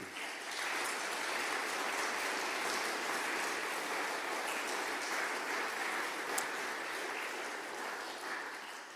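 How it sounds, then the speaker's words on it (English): A gathered audience gives a long, even round of applause for a fundraiser, a soft, continuous rain-like patter of many hands heard from a distance for about nine seconds with no talking over it. "Callum needs a big round of applause, I think, and our thanks"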